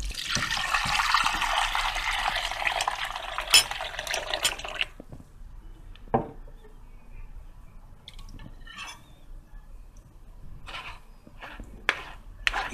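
Homemade lemonade made with whole lemons is poured through a strainer, giving a gushing liquid rush for several seconds that then gives way to scattered drips and small clinks in a quiet kitchen.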